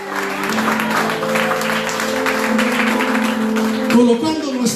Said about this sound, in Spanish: Den un aplauso al Señor esta mañana.